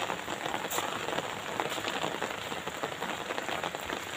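Dense, constant rain patters on a surface nearby, a steady hiss with no voices.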